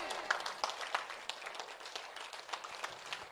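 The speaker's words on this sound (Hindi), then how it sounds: "एक बार जोरदार तालियां होना चाहिए।" Applause from an audience at a Marathi meditation gathering, a steady dense patter of many hands clapping that continues for a few seconds at moderate distance.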